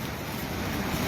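Rainwater rushes steadily down a stream after heavy rain, a continuous broadband wash of flowing water mixed with some wind noise, with no voices.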